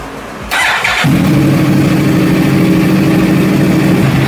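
A Yamaha R1 sports motorcycle engine, just serviced with its throttle bodies synchronised, fires up partway through and settles into a loud, steady, close idle with no talk over it.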